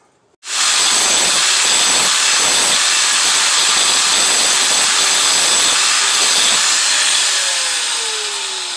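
Power grinder biting into the metal of an old German knife blade, a loud continuous broadband hiss and whine starting abruptly and running steadily for about eight seconds before tapering slightly, heard alone without talk.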